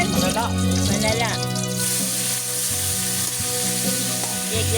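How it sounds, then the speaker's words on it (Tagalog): Food sautés in a pan with a loud, close sizzle and stirring, under overlapping voices talking throughout in a rural home kitchen. "Gigisa."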